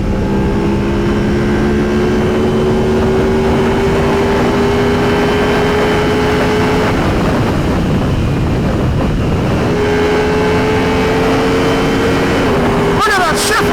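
Motorcycle engine cruising steadily in fifth gear, a loud sustained drone with steady harmonic pitch, heavy wind rush over the microphone, and a brief dip midway before the tone resumes; a voice talks over parts of it.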